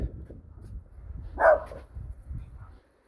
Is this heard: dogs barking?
yes